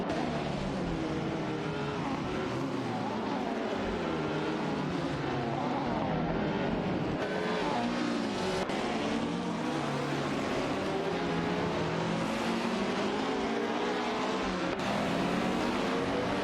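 Race cars roaring around a track in an AI-generated race, a dense continuous engine drone with overlapping passes rising and falling in pitch, loud and steady throughout with no talk.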